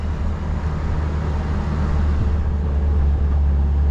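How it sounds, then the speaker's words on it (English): A 2021 Ford Bronco with its doors and top off drives along a back road, giving a steady low engine drone mixed with wind and road rumble at close range. "Yeah, the car feels really nice on this back road."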